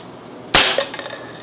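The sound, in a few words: Umarex Legends Luger .177 air pistol shots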